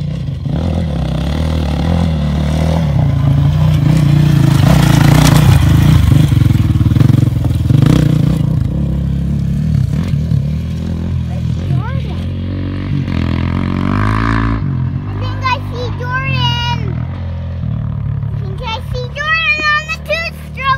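A Honda 450X four-stroke motorcycle engine compared with a two-stroke, running and revving loudly up close, then fading as children talk and shout over it.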